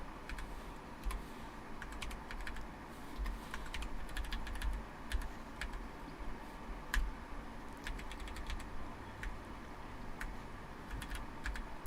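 Rapid clicking keystrokes on a computer keyboard during a modded Minecraft session, steady bursts of close, crisp taps with a soft background hum and no talking.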